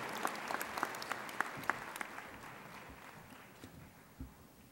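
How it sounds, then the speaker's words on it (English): At a high school graduation ceremony, a large audience applauds the class officers with steady, somewhat distant clapping that gradually fades toward the end. "can we give them another round of applause?"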